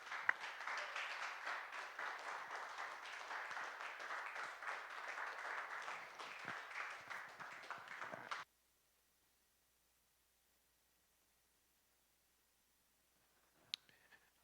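A church congregation applauding for about eight seconds with steady, dense clapping, then stopping abruptly into near silence, followed by a faint click near the end.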